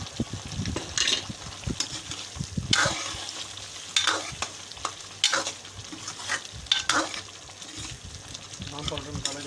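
Potato karahi cooking with powdered spices (turmeric, red chili, black pepper, cumin, coriander) being stirred into hot oil, giving a steady close sizzle with repeated scraping strokes of a spoon against the pan, alone without talk.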